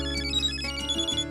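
Mobile phone ringtone playing a short electronic melody with sustained tones, clear and steady for just over a second, with no voices.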